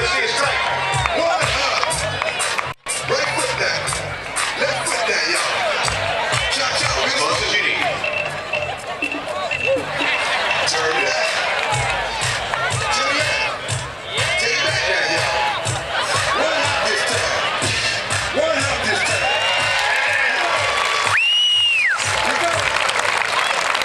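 Crowd at a baseball game's country night cheers and applauds loudly and continuously as the first pitch is thrown, with dense chatter throughout and voices calling out over the roar.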